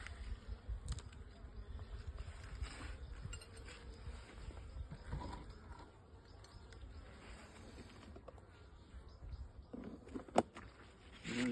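Honeybees buzzing around an open beehive while a super is added, a steady low hum with scattered close passes and occasional light clinks of equipment.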